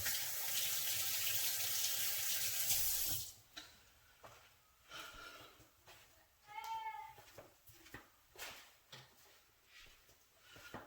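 A kitchen tap runs in a steady loud rush for a few seconds as hands are washed at the sink, then cuts off, leaving scattered clatters and a few words of talk.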